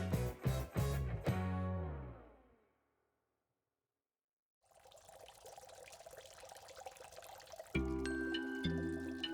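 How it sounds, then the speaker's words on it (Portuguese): After a stretch of music and a brief silence, a steady stream of tap water runs and splashes over crocheted amigurumi toys, continuous and fairly close, with faint music returning. "Eu vou começar o experimento com a água pura, direto da torneira."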